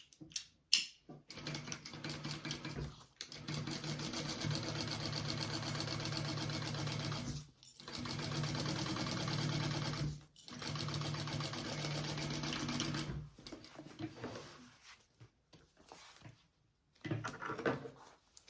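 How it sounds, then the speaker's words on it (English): A sewing machine stitches a 3/8 inch seam across a basted flap on a fabric sling, running in several steady bursts of a few seconds each with brief pauses between, close and fairly loud. "now we are going to sew that all the way across where we just basted our flap"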